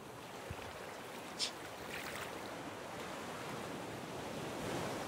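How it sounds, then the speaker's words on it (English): Ocean waves and surf wash steadily around a raft at sea in the survival video game Raft, a constant broad rushing with faint wind, no voices over it. "I hate the waves, seriously."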